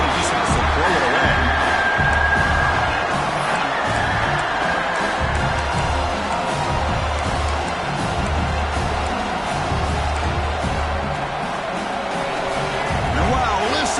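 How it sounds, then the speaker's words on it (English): Dense, roaring crowd noise at a college football stadium during a game against Michigan fills the whole stretch without letup, with the rumble and cheering of a packed stand under ongoing talk. "And wow, listen to this crowd noise. This stadium is vibrating."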